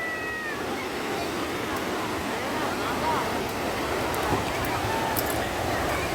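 High-tide sea waves on Digha beach: a continuous, close roar of surf and wind washing across the shore, with no distinct breaks.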